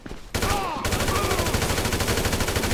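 Rapid bursts of automatic gunfire in Grand Theft Auto V rattle continuously and loudly after a brief quieter start, with a sharp whistling zip cutting through early on.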